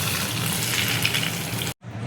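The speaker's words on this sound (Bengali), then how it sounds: "গরম তেল আমি দিয়ে দিচ্ছি।" Hot oil poured over a paneer mixture sets off a loud, dense sizzle that runs steadily and then cuts off abruptly, followed by a quieter hiss.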